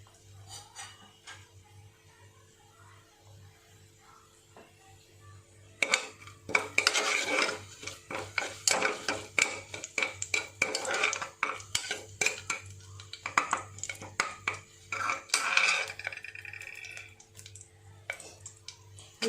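Bay leaves temper in sesame oil in a pan for tomato rice. After a quiet start, a metal spoon stirs and scrapes the pan in quick, uneven clattering strokes over a low background hum.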